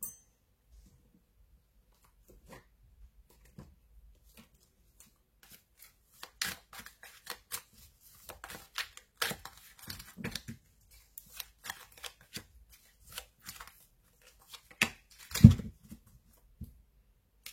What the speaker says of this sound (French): on va tirer un petit peu les oracles pour voir quel message on a